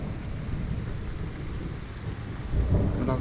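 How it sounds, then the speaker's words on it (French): Violent thunderstorm over Liège, Belgium: steady heavy rain with a low rumbling roll of thunder that swells louder near the end. "C'était vraiment un très violent orage."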